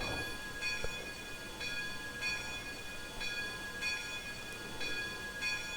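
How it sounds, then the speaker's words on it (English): In Trainz 2019, the locomotive bell of a Washoe Valley War Baby 4-8-4 steam engine clangs in a steady, even rhythm, ringing on and on over a low rumble. "I like the bell sound."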